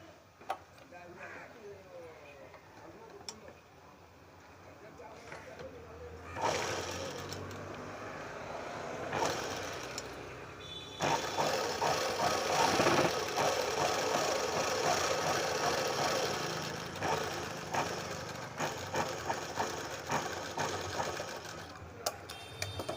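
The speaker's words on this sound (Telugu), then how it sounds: "ఇటు సైడే కుట్టాలి ఇలా కుట్టుకోవాలి మనం" A sewing machine stitches the off-shoulder collar neck of a dress in steady mechanical bursts, running louder and continuous through the second half, with someone speaking over it.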